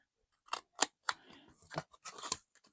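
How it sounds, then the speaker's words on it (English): Scissors snip paper for a tiny mixed-media journal, a few close, crisp cuts with short pauses and a brief rustle of paper between them. "I am going to cut it there"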